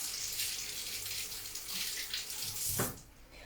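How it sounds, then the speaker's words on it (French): Tap water runs steadily into a sink as fingers are rinsed, a close, even hiss of flowing water that briefly splashes and then cuts off near the end. "Je vais juste me rincer les doigts."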